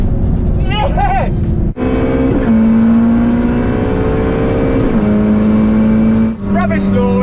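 A rebuilt BMW X3M launches hard in a drag race against supercars, its engine droning loud and steady through rising gears with brief dips at shifts, while excited voices shout over it.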